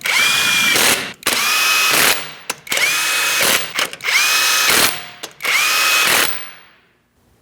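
A power tool zips 21mm lug nuts onto a Ford Transit 250 wheel, five loud close bursts of whirring and ratcheting separated by brief pauses, then fading to quiet.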